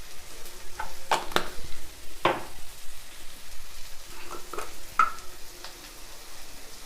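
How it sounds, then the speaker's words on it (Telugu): Leftover rice with garam masala, chili powder and a pinch of pepper stirred in a pan, with scattered scraping and clinking spoon strokes over a soft sizzle, close up and without talk. "ఇవన్నీ బాగా కలుపుకోవాలి."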